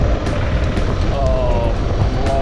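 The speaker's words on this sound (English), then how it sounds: "there's a truck coming" A truck rumbles along a narrow mountain road on the Pamir Highway, a steady loud engine drone throughout, heard from close by a motorbike rider with continuous roadside noise.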